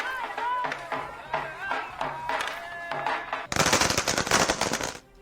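Rapid crackling bursts of celebratory fireworks explode in dense succession after a stretch of news talking, loud and close.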